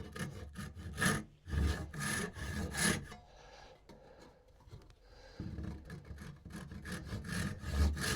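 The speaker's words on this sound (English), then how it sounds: "With a tenon saw, which is a rip saw." A tenon saw rips along the grain of wood for a dog gate, cutting in steady, close, loud back-and-forth strokes with a rasping rhythm and a brief lighter pause in the middle.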